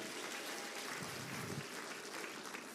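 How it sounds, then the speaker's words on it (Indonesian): Audience applause at an Atomy business seminar, a steady soft wash of clapping from a crowd that stays fairly faint and even, with no voices over it. "Tepuk tangan buat Atomy Bapak dan Ibu."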